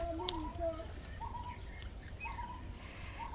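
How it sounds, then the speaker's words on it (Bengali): Birds near water at sunset giving short, faint chirps and calls at a distance over a quiet hiss of outdoor ambience, with a high steady insect-like whine behind. "পাখি উড়ে যাচ্ছে"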